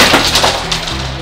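Ice block being smashed with hands that are cold and wet, a burst of clinking, cracking crashes close up and fairly loud, with no talk over it.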